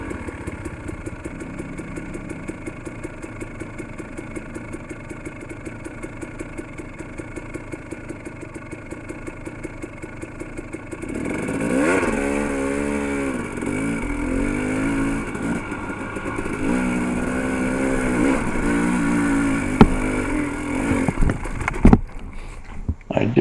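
An off-road motorcycle idles steadily, then revs hard and labours as it climbs a rocky section, engine note rising and wavering with bursts of throttle and clattering near the end. People talk over it.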